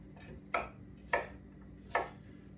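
A knife cuts brussels sprouts into quarters on a board: three separate crisp chops, close and clear, with quiet pauses between them.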